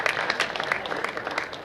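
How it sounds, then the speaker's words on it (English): Students applauding themselves at a school award ceremony, a short burst of scattered clapping from a modest group, fairly even across the moment. "And can you guys give yourself a round of applause?"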